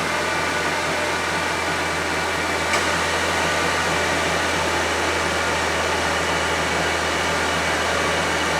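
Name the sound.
Honda Civic air conditioning compressor kicking on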